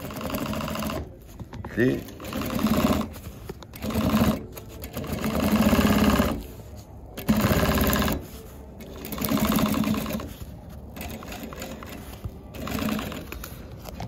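A Juki DDL-8700-H industrial sewing machine binds fabric edges with an S64 binder, running in repeated whirring bursts of a few seconds with short pauses, while a person talks over it.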